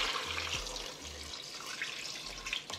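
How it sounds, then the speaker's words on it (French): Water pours steadily into a pot of red beans for an Antillean recipe, a soft continuous splashing and trickling that runs close by and fairly quietly with no voices. "je vais recouvrir tout ça d'eau."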